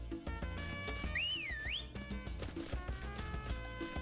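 A character's whistle in the video game Harvest Moon Magical Melody: a short, clear, rising and falling whistled tune heard over the game's busy background music.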